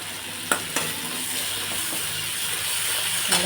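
Food sizzling steadily in a hot pan, with a few sharp clanks of a utensil stirring near the start and end.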